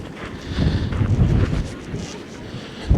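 Wind buffets the microphone out on a frozen lake, a low rumbling roar that swells and fades in gusts, with a brief bump at the end.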